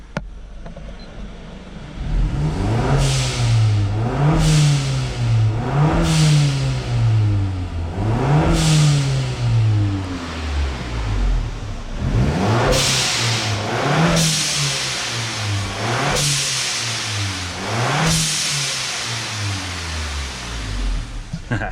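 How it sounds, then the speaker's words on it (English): A 2009 Acura RDX turbo SUV engine revs up and down repeatedly in rising and falling pulses, loud and close, with turbo whooshes and whistles on each throttle blip. "So I'm going to go ahead and rev it up."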